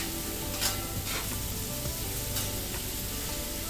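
Tomatoes fry in a pan with a steady, dense sizzle, close and loud, with faint stirring crackles and no talking.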